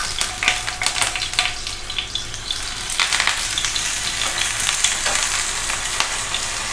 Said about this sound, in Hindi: और इन आलू को मैं जो करूँगी फ्राई करूँगी।